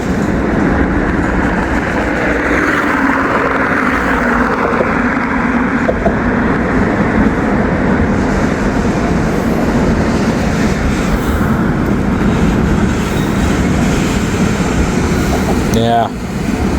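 A slow-moving freight train crosses a steel bridge in Cincinnati, giving a steady, continuous rumble and rolling wheel noise throughout, with faint metallic squeals near the end.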